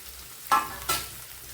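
Onion, potato and bay leaf fry in a pan for kande pohe, with a soft hiss of oil and two quick scrapes of stirring close by, brief and with no talk.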